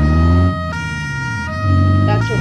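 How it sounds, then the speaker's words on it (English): Police siren on a Cherrier Vivace in BeamNG.Drive, a loud wailing tone that shifts pitch in cycles over a steady engine hum, close and continuous. "that's what the siren sounds like."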